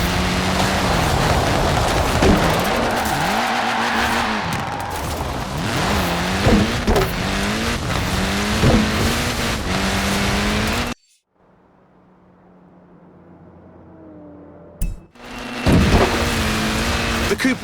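A Mini Cooper S driving in Forza Horizon 4, a loud engine revving up and down through gear changes, then a sudden drop to a quiet interior hum before the engine roars back.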